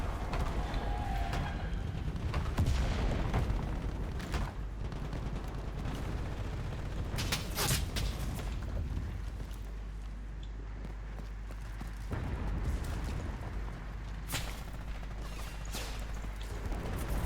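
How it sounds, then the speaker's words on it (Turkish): Scattered gunfire in the World War II shooter Enlisted, set in Normandy, pops through a dense, rumbling battlefield ambience, with several sharp shots spaced irregularly over a steady low roar. "Şuradan mermi atayım."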